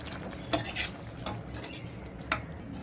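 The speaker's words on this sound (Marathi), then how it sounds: "कोथिंबीर घालून मिक्स करूया आपण आणि गॅस बंद करून टाकूया" A spoon stirs coriander into a potato and flat bean curry in a pan, making a few soft scrapes over a steady low sizzle, with no talk.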